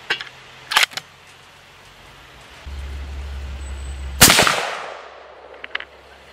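A 6.8 Western rifle loaded with Ballistic Silvertip ammunition fires a single loud, sharp shot with a ringing tail, following a low steady hum and some brief clicks and handling noises.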